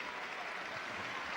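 Sporting applause from rugby league supporters at a Batley versus Leigh NRC semi-final, a steady, dense wash of clapping filling the whole moment at moderate distance.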